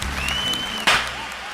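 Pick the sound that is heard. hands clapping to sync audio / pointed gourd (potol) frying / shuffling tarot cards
hands clapping to sync audio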